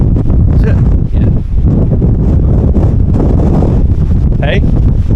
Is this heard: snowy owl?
no